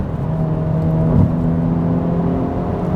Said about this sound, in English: Can actually hear the turbo spool.